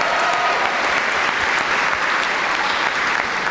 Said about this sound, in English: We want to give them a really big round of applause.